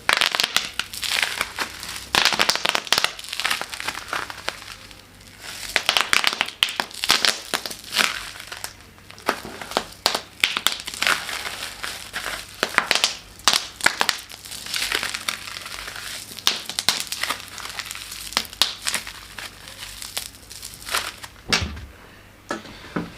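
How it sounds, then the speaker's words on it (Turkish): Bubble wrap packaging being popped and crumpled by hand, a long run of sharp irregular pops and crinkles, close and fairly loud, bunched in rapid clusters with short quieter gaps between them. "şu patlayan poşetlere patlatmak çok hoşuma gidiyor ya"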